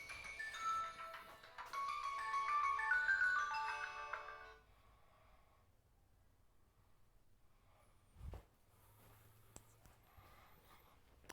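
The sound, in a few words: mobile phone ringing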